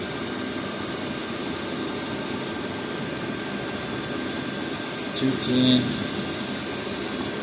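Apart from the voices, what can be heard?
cheap Chinese diesel heater running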